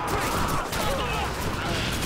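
Sniper rifle fire amid a chaotic Call of Duty 2 battle, a dense, loud barrage of overlapping gunshots and rattling fire with voices mixed underneath throughout.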